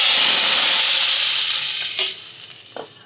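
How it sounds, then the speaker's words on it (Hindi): Hot oil tempering poured into a covered pot of chickpeas gives a loud, bright sizzle that hisses steadily, then fades and quiets as it settles, with a couple of small clinks near the end. "अब हम ये तड़का जो है वो हम इसमें डाल देंगे"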